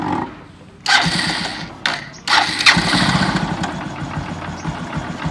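A Honda motorcycle with no kick start is electric-started: a couple of brief starter cranks, then the engine catches and settles into a steady, close idle.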